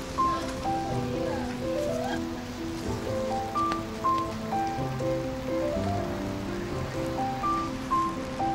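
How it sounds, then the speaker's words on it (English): Steady heavy rain pours down in a constant dense hiss, with faint tonal sounds drifting in and out underneath. "Looks like the rain's really coming down."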